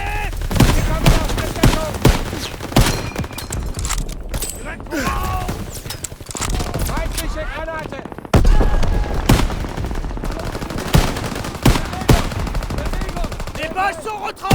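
Gunfire in the World War II shooter game Call of Duty: WWII, with rapid bursts of rifle and machine-gun fire, loud and continuous over about fifteen seconds, mixed with battlefield mechanisms and brief game voices.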